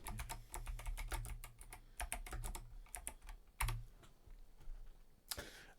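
Quick bursts of clicking keys on a computer keyboard as a stream title is typed, close and clear, with brief pauses between runs of keystrokes.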